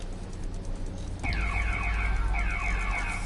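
A wailing siren in the Spider-Man video game, steady and loud from the start, sounding close over a low rumble of city ambience.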